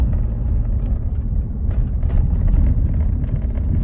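Heavy road rumble from trucks and vehicles on a potholed state highway, a loud continuous low drone with brief rattling bumps, close by and with no talking.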